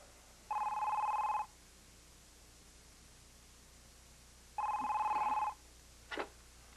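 An old-style telephone bell rings twice in long, steady bursts separated by a pause, loud and clear over faint background hiss, with a brief click at the end.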